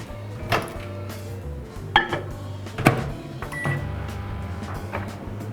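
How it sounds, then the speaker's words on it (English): Low steady hum of a microwave heating double cream close by, broken by a few sharp clicks and clunks. "I'm putting that in the microwave for 30 seconds."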